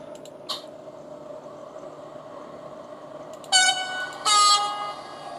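Roco 60972 Vectron model locomotive sound from its sound decoder's small cube speakers on a test track: a steady electric hum, then two short, loud horn blasts near the end, no talking.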